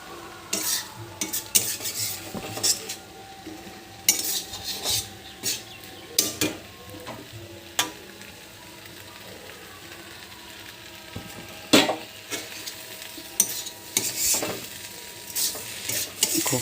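Banana flower curry being stirred in a pan: repeated scraping strokes of a spoon against metal over a low, steady sizzle, close and fairly quiet, with irregular bursts of stirring and no talking.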